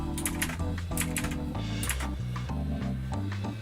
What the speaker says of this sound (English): I just realized you could probably hear my keyboard as well